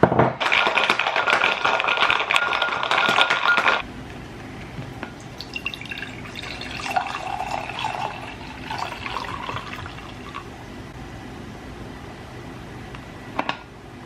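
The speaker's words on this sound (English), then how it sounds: "So you just basically shake this, shake it with ice, and then pour it in a glass." Drink shaken with ice inside a Yeti tumbler, a loud dense rattle lasting about four seconds, followed by softer liquid pouring and trickling into a glass.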